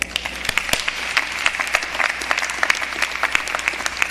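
A crowd applauds at the University of the Virgin Islands 2025 commencement ceremony, with sustained scattered clapping and sharp individual claps standing out near the microphone.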